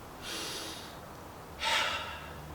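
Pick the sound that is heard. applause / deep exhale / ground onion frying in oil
deep exhale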